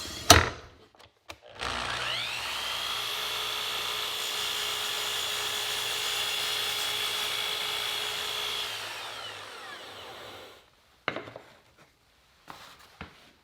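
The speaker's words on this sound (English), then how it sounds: "set the angle of the saw to 45 degrees, and cut a chamfer on the top of the board" A saw tilted to 45 degrees cuts a chamfer along the top of a wooden board, a whining blade sound that runs steadily for about eight seconds between short bursts of clatter, fairly close.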